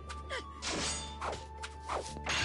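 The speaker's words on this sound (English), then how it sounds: "We're just going to start destroying some, a little bit of pottery before we move on." Pottery smashing in the Naruto Storm video game: several sharp crashes and thuds, mixed with whooshing strikes, break out one after another, loud and close against a steady game background.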